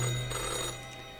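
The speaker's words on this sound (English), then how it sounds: "The old-fashioned phone again rings right as you settle in." An old-fashioned telephone ringing in the video game Death and Taxes, a brief electric bell trill that fades out over about a second, with no voices.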